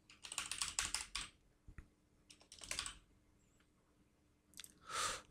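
Rapid typing on a computer keyboard, with bursts of dense key clicks separated by short pauses and a few isolated taps, close and moderately loud with no talk.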